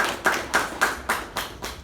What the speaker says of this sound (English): can we have a huge round of applause for her again?